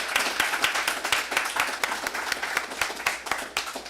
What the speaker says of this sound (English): So join me in applauding